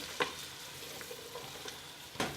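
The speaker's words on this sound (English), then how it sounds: "I'm going to cook them until the onions start to become transparent" Onions and carrot cooking in butter in a pan, giving a steady low sizzle with a few sharp scrapes and clicks of a utensil stirring.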